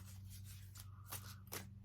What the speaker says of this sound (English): So I'm going to do 3 more shuffles here.